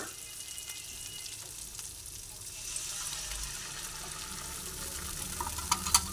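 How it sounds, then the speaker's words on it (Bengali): Turmeric powder and spices fry in a kadai for a bitter gourd malai curry, giving a soft, steady sizzle that swells slightly midway, with faint scraping from stirring and no clear talk. "হলুদ গুঁড়ো একসঙ্গে ভেজে নিচ্ছি"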